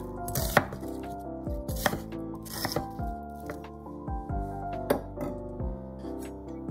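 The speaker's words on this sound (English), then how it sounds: "Cut the onion into 10mm wide pieces." A kitchen knife slicing an onion into 10mm pieces on a board, several crisp irregular chops close by over faint background music.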